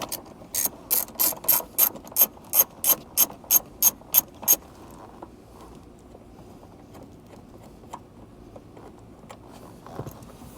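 Ratchet wrench working a 10 mm bolt under the dash of a Mazda Miata ND, about fifteen quick, evenly spaced clicks up close, then faint handling noises.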